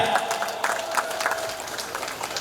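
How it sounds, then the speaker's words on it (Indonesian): An audience at an Islamic religious gathering and Quran memorization graduation in Bangka claps for a sponsor, a pawnshop company, with brief, moderately loud applause over a faint background tone. "Tepuk tangan buat Pegadaian"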